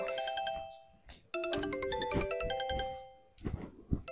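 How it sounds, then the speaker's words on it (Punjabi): A phone ringtone plays a bright, chiming melodic pattern in repeated bursts with brief gaps, fairly close and clear, and no talk over it. "ਆ ਫੋਨ ਕਿਹਦਾ ਆ ਗਿਆ?"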